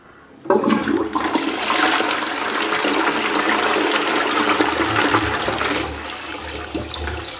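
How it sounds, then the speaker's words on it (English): An Armitage Shanks Sandringham toilet, a 2014–2015 model, is flushed. The loud rush of water starts abruptly half a second in, holds as a strong close gush for several seconds, then eases toward the refill. "Can't resist flushing it,"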